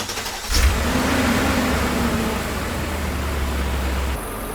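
BMW E39 M5 engine running just after an oil change: a start followed by a steady, loud idle with a slight rev that settles into an even hum, ending abruptly as it cuts off near the end.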